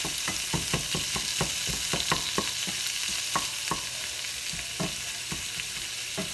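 Peppers and onions frying in a pan on a budget keto meal, a constant sizzle broken by repeated sharp scraping and stirring clicks from a utensil, close and steady.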